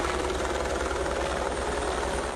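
Helicopter flying over a disaster area beside a derailed ore train, its rotor beating in a loud, steady, continuous chopping throb.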